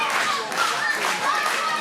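A crowd at a live wrestling event claps in an even rhythm and cheers, loud and close, with a voice talking over the applause.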